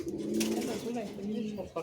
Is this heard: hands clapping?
no